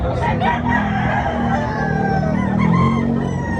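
Roosters crowing at a chicken expo in Tabunok, Talisay, Cebu, with drawn-out crows rising over continuous crowd and fowl noise, fairly loud and close.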